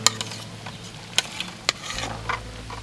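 Scattered, close clicks and scrapes come from a spoon stirring a grain carp-bait mixture with garlic cloves, with a few sharper knocks over a quiet background.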